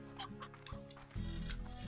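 Chickens cluck in the Slime Rancher video game amid a busy, layered game soundscape, with short repeated clucks over a steady musical background that swells louder partway through.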